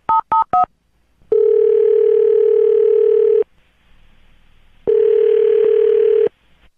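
Telephone call being placed: three quick dialing beeps, then a steady ringback tone in two long bursts separated by a pause, loud and close with no talking.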